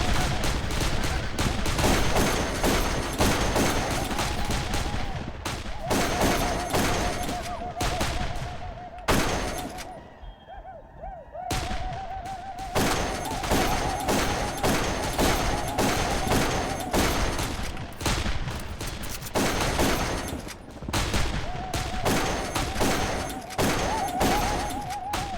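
Sustained video game gunfire from Darkest of Days, dense bursts of automatic fire and shots crackling almost continuously and loudly, with a brief lull near the middle before the shooting resumes.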